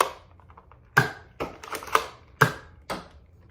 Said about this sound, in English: Firing the Dart Zone darts.